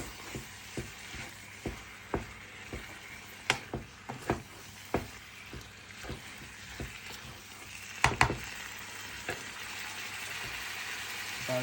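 A pot of food sizzles and bubbles quietly while a utensil knocks against it in regular, sharp clicks.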